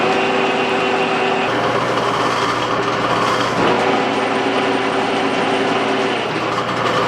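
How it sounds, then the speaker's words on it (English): Straight-cut gears in the gear train of a Monarch lathe under clutch rebuild whir and clatter continuously, a loud, busy mechanical rattle with a steady tonal hum and no talking. "There is some noise coming from this gear train here"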